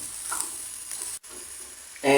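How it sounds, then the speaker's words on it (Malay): Chopped garlic and Holland onion sautéing in hot oil, giving a steady, close sizzle and hiss with light stirring throughout and a brief gap before the frying noise swells again. "We sautering our chopped garlic, bawang putih, together with the Holland onion"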